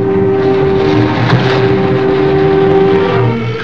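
A car engine runs steadily throughout, a continuous close drone with a sustained hum, loud and unbroken, with no talk over it.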